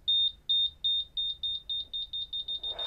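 A Crumble electronic buzzer driven by a distance sensor beeps in a steady run, the beeps coming faster and shorter as the distance shrinks, ending in a burst of noise.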